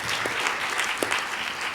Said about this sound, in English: maybe we can just have one more round of applause for all of our knowledge holders